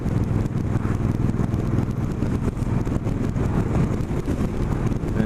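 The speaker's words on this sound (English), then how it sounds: "that wind is like freaking me out" Strong wind blowing outdoors, buffeting the microphone with a loud, continuous low rumble and roar that stays steady throughout, with no talking.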